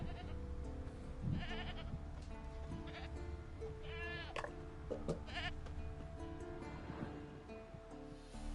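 A goat bleats in The Witcher 3, the wavering cry rising several times over a steady ambient bed of music and surf-like wash, each bleat short and moderately close.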